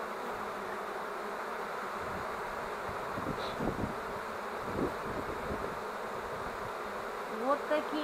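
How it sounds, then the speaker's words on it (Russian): Honeybees buzz around a hive, a soft steady hum of many insects with faint swells and rustles, no talking. "Конечно, пчел здесь много."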